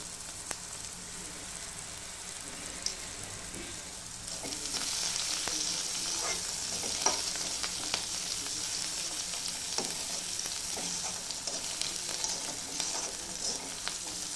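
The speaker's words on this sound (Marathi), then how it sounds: "चांगला कांदा लालसर रंग येऊपर्यंत परतवून घ्यायचा." Onion being sautéed in a pan until reddish sizzles and fries with a steady hiss, stirred now and then with faint scrapes and clicks, moderately quiet and close, with no voices.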